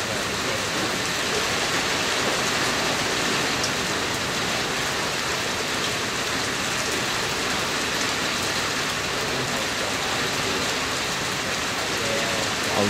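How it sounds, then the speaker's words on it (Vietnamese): Heavy rain pours steadily for the whole stretch, a dense, loud, unbroken hiss of drops during a thunderstorm near the shore, with no pauses. "Bữa nay là phải nói là mưa nguyên một ngày luôn."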